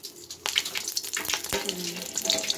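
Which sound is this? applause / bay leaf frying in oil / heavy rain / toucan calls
bay leaf frying in oil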